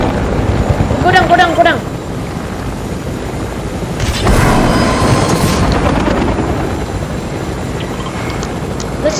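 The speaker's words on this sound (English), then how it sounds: "Let's just get over here and abandon the chopper." Helicopter in a video game flies with a steady rotor drone beneath short spoken game chatter, swelling louder midway as other game effects burst in.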